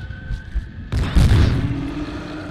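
Shotgun blasts in the horror game Obscure: a sudden loud boom after a quieter stretch, then a thick rumbling burst that slowly tapers away.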